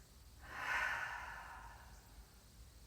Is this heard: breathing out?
yes